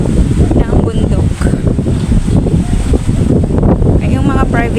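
Strong wind buffets the microphone on a Boracay hop-on hop-off bus land tour, a loud, continuous rumbling roar with gusty swells that persists throughout.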